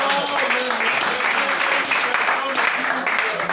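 A church congregation claps together in a sustained burst of applause, with a voice carrying over the crowd throughout.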